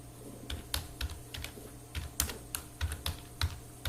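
Someone types on a computer keyboard with irregular, close key taps and occasional heavier strokes, steady and moderately quiet, with no voices.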